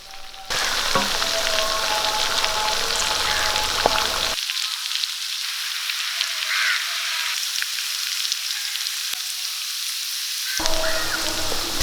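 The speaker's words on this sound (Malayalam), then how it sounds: "നമ്മുടെ ചിക്കൻ നല്ലപോലെ ഫ്രൈ ആയിട്ടുകൊണ്ട് നമുക്ക് കോരി മാറ്റാം" Chicken pieces frying in hot oil for Kerala-style chicken kondattam, a steady close crackling sizzle that cuts out briefly midway and then resumes.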